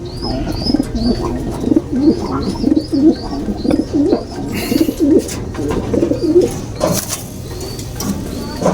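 Breeder pigeons coo in a loft, with a steady run of repeated throaty coos and a few higher chirps overhead, close and fairly loud, with no talking.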